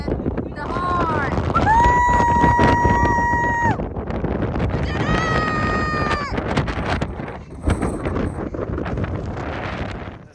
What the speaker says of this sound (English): It was extremely windy.